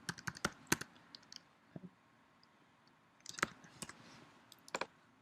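Keys clatter on a computer keyboard in two short bursts of typing with a pause between, light clicky strokes heard close but quietly.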